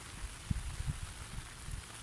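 Steady rain falls outdoors at a natural fishing spot, a soft broadband hiss with a few low thumps and knocks close by, no talking.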